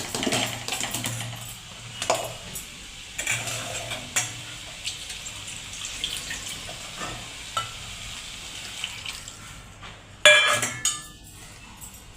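Potato bhaji for a puri bhaji meal is stirred in a sizzling pan with repeated spoon scrapes and clinks. Near the end, a loud burst marks water being poured into the hot pan.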